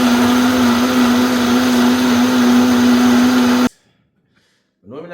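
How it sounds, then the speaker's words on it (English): A blender runs at a steady high whine, blending pineapple, grape, tomato and ginger juice. It stays loud and even for several seconds, then cuts off abruptly. A voice starts speaking just after it stops. "I have to strain because this blender blends so fine."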